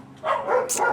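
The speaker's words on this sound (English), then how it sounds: "the dog's going crazy now" A dog barks in a quick burst of a few yips and barks, fairly close and loud, over a low background hum, with no talking.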